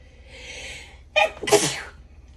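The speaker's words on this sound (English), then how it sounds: "About to sneeze." A single sharp sneeze bursts out after a faint breathy lead-in, loud and close, with no talking around it.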